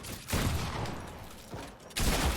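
Gunfire in the video game Fortnite: loud, dense bursts of rapid shots in two clusters separated by a brief lull, close and harsh, with no talking.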